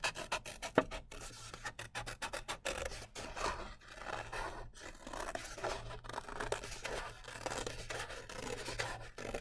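Scissors snip around a paper plate, cutting out a C-shaped piece in a series of quick, close, rhythmic cuts with papery rustling and scraping, heard alone without talk.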